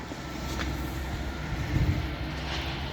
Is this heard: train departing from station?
yes